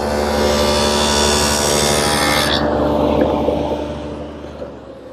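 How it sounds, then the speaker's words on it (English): A table saw cuts tenon cheeks on narrow workpieces clamped in a tenoning jig that rides in the miter slot. The steady, loud whine of the blade cutting through wood drops off midway as the saw runs down. "I've been making the cheek cuts on the tenons. Now, I use this tenoning jig, which rides in the miter slot of the saw"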